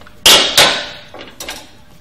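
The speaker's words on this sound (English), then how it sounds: "So we'll start removing these pinch bolts" Tool working pinch bolts on a motorcycle clip-on handlebar: two sharp metallic clicks close together, then fainter taps and clicks, close and alone.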